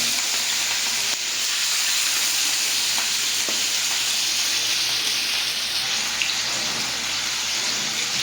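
Hilsa fish pieces half-frying in hot oil give a loud, continuous hissing sizzle that stays steady throughout, with faint pan ticks and no talking.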